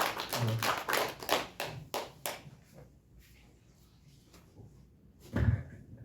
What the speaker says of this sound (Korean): 우리 모두 하나님 앞에 영광의 박수 드려요.